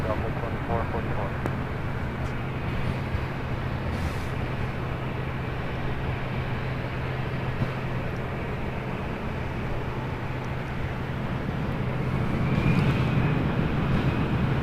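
A Delta airliner taking off from runway 24 left at LAX, a continuous low jet roar heard from a distance, swelling slightly toward the end.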